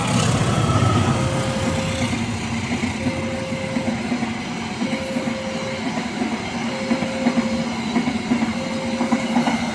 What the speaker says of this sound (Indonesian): Kereta api Gaya Baru Malam Selatan dan sudah melintas.